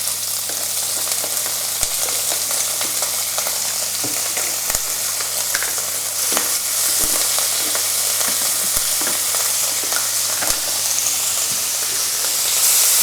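Quiche ingredients fry in a pan heated between medium and high, giving a loud, dense, continuous sizzle with occasional sharp ticks and pops and no talking.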